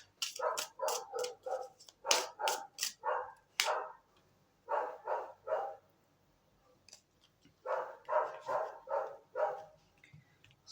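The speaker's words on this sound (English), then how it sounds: "Sorry for my neighbor's dogs." A neighbor's dogs bark in rapid repeated bursts with short pauses between volleys, moderately loud from a short distance in an otherwise quiet setting.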